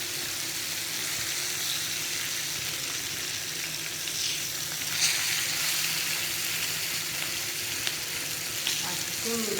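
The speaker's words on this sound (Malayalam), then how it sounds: "ഇത് ഇങ്ങനെ വറുത്താൽ വെളിച്ചെണ്ണ അധികം കുടിക്കില്ല, പെട്ടെന്ന് മൊരിഞ്ഞ് നമുക്ക് എടുക്കുകയും ചെയ്യാം" Fish fries in hot coconut oil, giving a constant close hiss and sizzle with occasional crackles and small spatters, and no talking.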